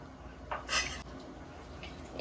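A spoon or ladle clinks against a pot while sambar rice with mango and coriander is mixed, a few brief metallic taps over a quiet background.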